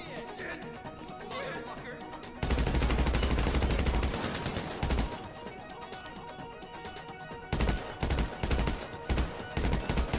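Gunfire in GTA Online's Doomsday Heist, heard as rapid automatic bursts and single shots, loud and close. A long volley comes first, then sharper clustered shots, with people talking over it.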